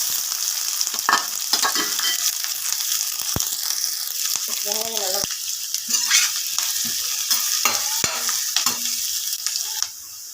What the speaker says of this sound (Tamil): பச்சை மிளகா, பூண்டு சேர்த்துக்கலாம். இந்த ஸ்டேஜில் வெங்காயம் போட்டுக்கலாம்.